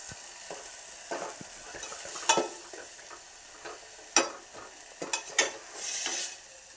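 Mushrooms fry in oil in a pan, heard as a quiet, low sizzle broken by a few sharp scrapes and clinks of stirring, with a brief louder hiss near the end.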